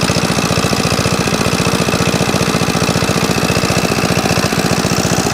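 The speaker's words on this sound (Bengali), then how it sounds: "অবশেষে মেশিনটি স্টার্ট দিতে পারলাম আমরা।" A shallow tube-well irrigation pump engine runs close and loud with a fast, steady, jackhammer-like thumping that holds an even rhythm throughout, with no voices over it.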